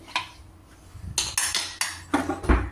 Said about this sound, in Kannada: ತಣ್ಣಗಾದ ನಂತರ ನಾವು ಕುಕ್ಕರ್ ಲಿಡ್ನ ಓಪನ್ ಮಾಡಿ